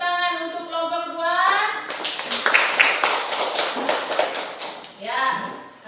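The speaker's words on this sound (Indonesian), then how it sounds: "Tepuk tangan untuk kelompok 2" Schoolchildren in a classroom clap for a discussion group, a lively burst of close hand claps lasting a few seconds between stretches of a teacher's voice at either end.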